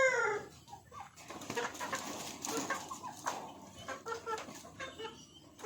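Chickens on a home property cluck and call faintly in a quiet outdoor setting, a scattered run of soft, irregular bird sounds.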